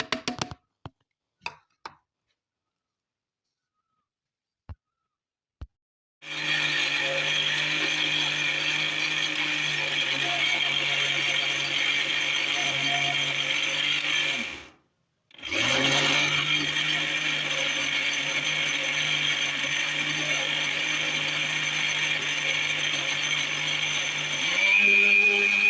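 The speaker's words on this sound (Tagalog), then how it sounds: "Now we have to put this one in blender, then we have to blend it." A blender whirs loudly and steadily through a mango ice cream mixture of coconut and condensed milk, stopping briefly midway before restarting, after a few soft clicks of setup.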